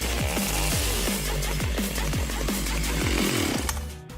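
A chainsaw runs loud and close, its engine pulsing rhythmically with repeated surges and dips in revs before it cuts off near the end.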